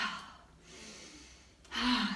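A deep breath drawn in during a morning yoga exercise, a soft airy inhale followed by a brief pause and then a louder rushing breath near the end.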